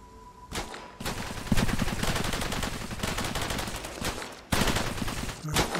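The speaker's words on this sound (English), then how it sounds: "Let's run over here and see if we can shoot that thing now." Sustained bursts of rapid gunfire from the Cepheus Protocol video game as an infected creature is shot, loud and dense rattling volleys with a brief pause near one second and another around four and a half seconds, no talk over it.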